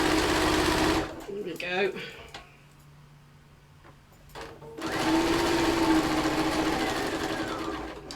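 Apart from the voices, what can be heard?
sewing machine backstitching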